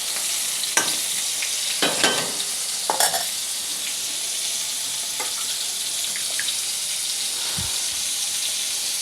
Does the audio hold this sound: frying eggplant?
yes